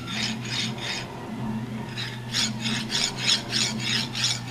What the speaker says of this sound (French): j'ai sorti juste une barre de 8 mm pour vous montrer un peu comment ça fait de bruit